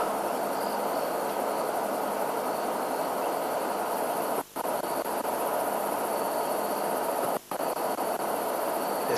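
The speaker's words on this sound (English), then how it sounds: "Lots of little crickets, katydids or longhorned grasshoppers calling." Crickets and katydids calling together at night in the bush, a dense, steady high-pitched trilling chorus that drops out briefly twice.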